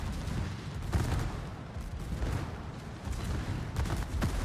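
Warship secondary guns firing in a naval battle video game, a dense, muffled stream of overlapping booms and rumbling gunfire at low volume, with no speech over it.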